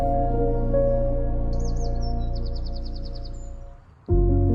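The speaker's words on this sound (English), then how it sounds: "I could see birds gliding low over the water and hear their calls echoing in the distance" Birds call over Rutland Water, a large reservoir in a country park: a short run of bright trilling chirps rises midway through, set against a loud, steady humming tonal background that briefly drops out near the end.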